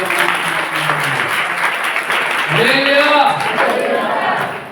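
Church congregation at a Hindi Christian service clapping in praise, a steady loud wash of hands with voices calling out over it midway.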